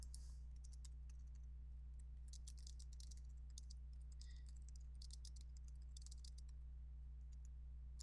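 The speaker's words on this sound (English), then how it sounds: "I'm going to type in right here." Fingers type a message on a computer keyboard, producing quiet, irregular bursts of soft key clicks over a steady low electrical hum, with no one speaking.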